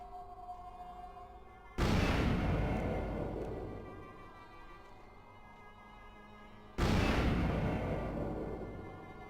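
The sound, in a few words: grenade explosions in Vampire: The Masquerade – Bloodlines video game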